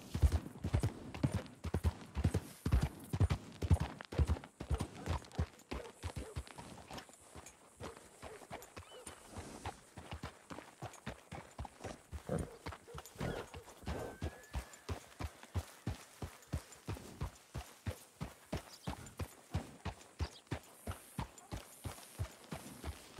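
Steady rhythmic clip-clop of horse hooves in the video game Red Dead Redemption 2, close and clear, keeping an even trotting beat throughout with no talking.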